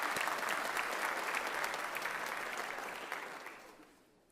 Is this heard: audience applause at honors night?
yes